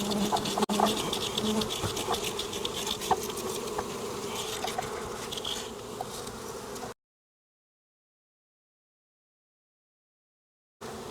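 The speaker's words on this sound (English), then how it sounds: "simply dump the bees into the beehive" A dense, steady buzzing of many honey bees being dumped from a package into a beehive, close and continuous, cutting off into silence partway through and returning briefly at the end.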